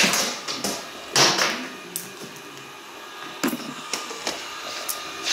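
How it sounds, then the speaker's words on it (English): A robot vacuum cleaner with something stuck in it runs nearby, producing a low whir with irregular clicks, knocks and rattling bursts alone. "we got Shaniqua, she's under there getting it together, my robot vacuum."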